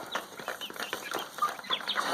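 Chickens cluck close by in short, irregular bursts with soft chirps between, alone without talk.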